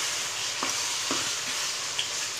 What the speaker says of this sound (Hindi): मिक्स करेंगे,